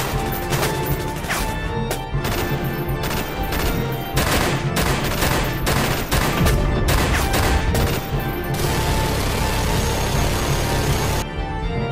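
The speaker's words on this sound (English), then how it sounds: "Hit the dirt to avoid that turret!" Heavy battlefield gunfire from a gun turret during a war film combat scene: dense, loud bursts and crashing shots fill the whole stretch almost without pause, with repeated sharp volleys layered over a constant rumble.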